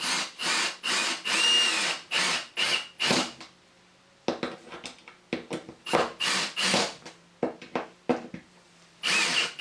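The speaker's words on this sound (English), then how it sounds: "fixing these by drilling a pilot hole with a hinge drill" A small hinge drill bores pilot holes for 3-inch electro brass plated hinges on a wooden rat game, giving repeated short bursts of high scratchy whirring with brief pauses between them.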